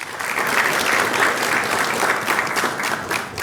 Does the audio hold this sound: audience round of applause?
yes